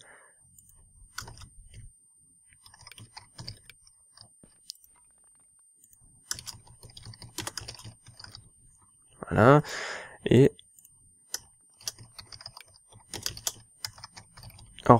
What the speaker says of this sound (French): si mon clavier fait un bruit de merde, c'est normal